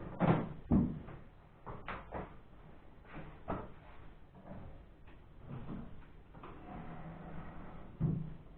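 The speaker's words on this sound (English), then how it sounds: "we're going to try and slide it out, just like one would open a drawer" Model railway layout module being slid out like a drawer, with scraping slides, knocks and wooden bumps at close range and no talking.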